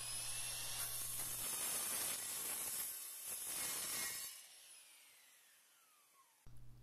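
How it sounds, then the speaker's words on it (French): A miter saw whines through 10 mm MDF board for a few seconds, then spins down with a falling tone before a brief restart, fairly close and loud. "J'ai utilisé du médium de 10 mm que j'ai découpé à la scie à onglet."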